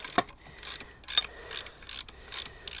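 An Allen key undoes the brake pad retaining pin on a Honda VFR800 rear brake, giving a few quiet, sharp metallic clicks and ticks spaced apart, with no talking.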